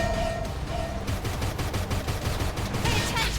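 Dense gunfire in the Xenoblade Chronicles X video game, rapid repeated shots layered over a continuous rumble of battle noise, loud and close throughout.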